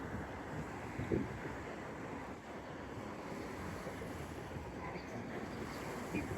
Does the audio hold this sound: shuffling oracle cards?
no